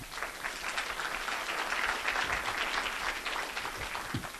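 Audience at a lightning talk session clapping, a sustained, moderately distant patter of many hands that holds steady across the clip.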